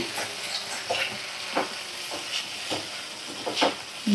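Chow mein sauce is stirred in a frying pan, producing a soft, steady sizzle broken by repeated scraping strokes of the utensil at a roughly regular pace.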